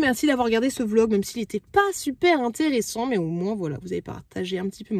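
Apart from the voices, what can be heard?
No everyday noise stands out behind the speech.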